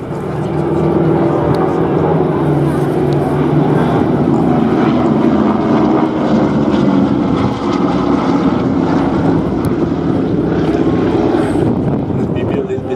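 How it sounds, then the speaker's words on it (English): Two Beech 18s and a Douglas DC-3 fly past in formation at the Flying Legends airshow, their piston engines and propellers making a loud, steady drone that lasts throughout, with a voice talking faintly underneath. "2 Beech-18s, 1 Douglas DC-3. The sound of peace."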